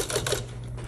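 Electric hum of a 1959 Smith Corona Electric Portable typewriter with a few quick, close key strikes in a brief burst, the motor drone steady underneath.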